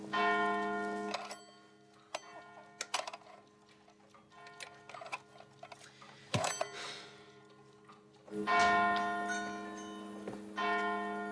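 A town hall clock bell rings out in a few sharp, resonant strikes with ringing decay, separated by quieter ticking and mechanical clicks, fairly faint overall and heard without talk.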